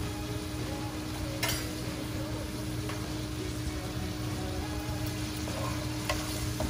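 Rui fish curry with tomato stir-frying in a pan, a steady dense sizzle with a few faint utensil scrapes and knocks over constant low background hum.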